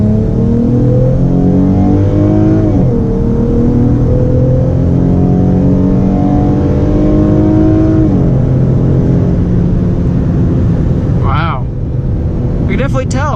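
A 2017 Dodge fitted with an aFe Momentum GT cold air intake accelerates at full throttle from inside the cabin, its engine note climbing steadily through two gear shifts, loud and continuous, with a brief voice near the end.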